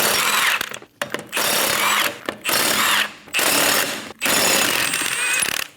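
Impact wrench with a 21mm socket spinning off the five rear lug nuts on a 2008-2015 Scion xB, heard as several loud, close bursts of rattling hammering separated by short pauses, with no talk.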